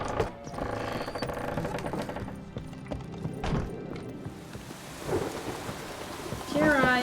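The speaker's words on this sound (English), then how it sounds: "A storm, damn it." A Witcher 3 thunderstorm: heavy rain pours while thunder rumbles and cracks, with hoofbeats clopping through the downpour and a few faint game sounds, no speech.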